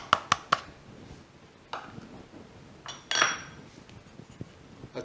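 Cornmeal and all-purpose flour for skillet cornbread being mixed in a bowl, with a few sharp utensil clinks at the start followed by softer scattered scraping and stirring knocks.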